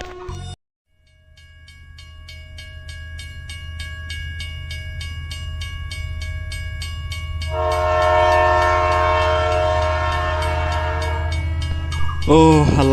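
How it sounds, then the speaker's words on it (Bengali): The Sundarban Express arriving at a station, a long sustained train horn blast over the low rumble of the moving train, growing louder and fuller partway through, then a brief burst of other sound near the end. "ট্রেন চলে আসছে অলরেডি"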